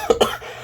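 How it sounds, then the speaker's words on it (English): Two sharp, loud coughs close together, near and alone, followed by a brief quiet tail. "Yes, I did indeed cough"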